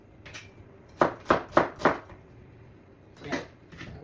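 Onions chopped on a cutting board for a barramundi fish dish: four sharp, close knife strikes in quick succession, a pause, then two more chops, with no talking.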